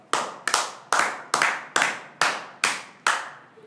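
Eight sharp hand claps in an even, steady rhythm, close and crisp with no talking around them, as applause at a comedy talk show.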